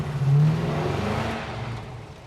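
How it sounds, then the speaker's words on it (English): An LS-swapped Ford F1 truck revs hard as it slides a gravel corner in a yard, a steady loud engine roar with no voices. "see if we can slide the corner in the yard"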